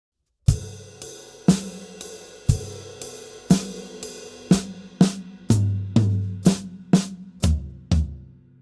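A drum pattern of steady, sharp hits about once per second that speeds into a quicker fill of close, punchy strikes, with a soft foot-pedal hi-hat chick on each beat.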